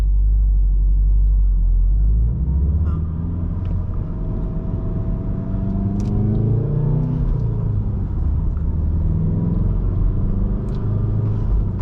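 Turbocharged four-cylinder engine of a 2019 Volkswagen Golf R hot hatch with six-speed manual, in race mode while commuting, heard from inside as a steady loud rumble that swells and falls with revs throughout.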